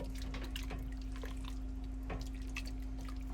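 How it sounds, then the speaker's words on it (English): Water poured into a thickening chicken curry sauce during RV cooking, a soft continuous trickle and splash, faint and steady under a constant low hum. "Might have possibly up to a cup of water here. I'm gonna pour it in."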